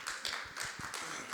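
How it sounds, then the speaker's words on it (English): Applause from a conference audience at a disability inclusion event, heard as a brief burst of scattered hand claps at moderate volume with no voices over it. "Round of applause."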